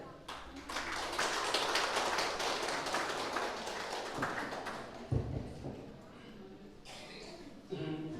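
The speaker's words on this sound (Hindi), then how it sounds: "उनका तालियों के साथ स्वागत करें" Audience applause at an Indian Independence Day ceremony welcomes vice chairman Nawang Thiley to the stage, a burst of clapping that fades as a speaker talks over it.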